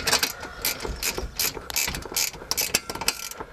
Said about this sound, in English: we're going to go ahead and tighten those down the way they are